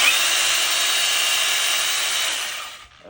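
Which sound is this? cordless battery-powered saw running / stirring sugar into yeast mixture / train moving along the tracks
cordless battery-powered saw running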